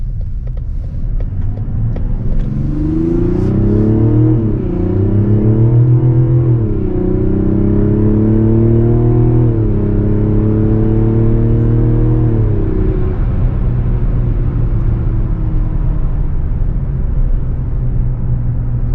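A 2024 Mazda CX-90 3.3 turbo SUV accelerating from inside the cabin, with a loud, steady engine drone that rises in pitch through several gear changes and then settles into a smooth cruising hum, no talking.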